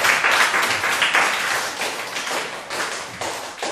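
A church cell group claps steadily in praise, a dense, continuous patter of many hands close by that holds for several seconds.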